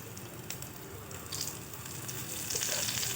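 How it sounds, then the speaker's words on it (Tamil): Dried red chillies frying in hot oil until golden, with a continuous sizzling crackle that grows a little louder toward the end, heard close up and without any voice over it. "வத்தலும் நல்லா பொன்னிறமாக பொரிஞ்சு வரட்டும்"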